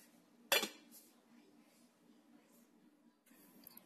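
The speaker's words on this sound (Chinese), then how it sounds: "我会盖上盖子，让它不要表面结一层皮。" A lid is set onto a container of cake filling during Swiss roll baking, giving one sharp close clunk followed by faint low room noise.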